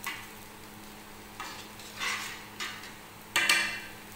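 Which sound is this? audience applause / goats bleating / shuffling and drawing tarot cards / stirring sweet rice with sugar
stirring sweet rice with sugar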